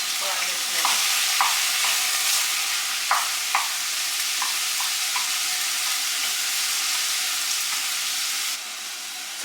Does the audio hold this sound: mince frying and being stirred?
yes